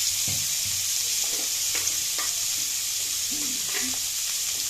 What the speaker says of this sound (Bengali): দেখো বন্ধুরা, লাল লাল করে ফুলকপি ভাজতে হবে।